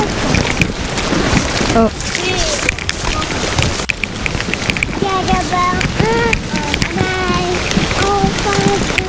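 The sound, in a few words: river rapids rushing water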